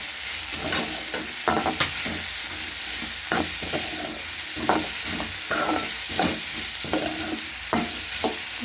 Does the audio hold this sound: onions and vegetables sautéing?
yes